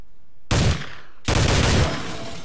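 Two bursts of automatic M4 rifle fire in the shooter Soldier of Fortune II, close and loud, the first short and the second longer, each ending in a fading echo.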